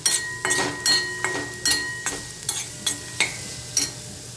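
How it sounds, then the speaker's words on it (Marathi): Ground masala paste is sautéed with onion in a pan for a dry brinjal-potato bhaji, a spatula scraping and stirring in roughly nine regular strokes over a steady close sizzle, no voices. "कांद्यासोबत आपल्याला हे वाटण व्यवस्थित परतून घ्यायचं आहे"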